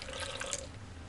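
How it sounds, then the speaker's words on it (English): Tap water running into a pot while cooking vegetables, a steady faint splashing and trickling stream that continues throughout, close by with no talking. "I'm just going to add some water."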